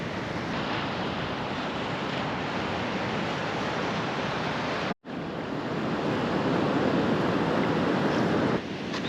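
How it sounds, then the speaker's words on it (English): Steady surf washes continuously onto Little Dip Beach, an empty, remote shoreline in Little Dip National Park on the Limestone Coast near Robe, with a brief dropout midway and some wind noise in the microphone. "This is Little Dip Beach as part of Little Dip National Park"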